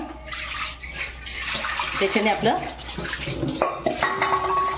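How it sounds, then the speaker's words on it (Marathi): Sweet potatoes are washed in a fine-meshed basket under running water, with splashing, trickling and the knock of tubers shifting, while someone talks over it. "मस्त दोन तीन पाण्याने याचं धुवून घ्यायचं स्वच्छ"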